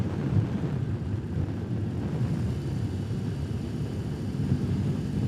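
A 2021 BMW R18 motorcycle's big twin-cylinder engine runs at low RPM, a steady deep rumble that stays close and loud throughout with a broad, windy roar and no voices.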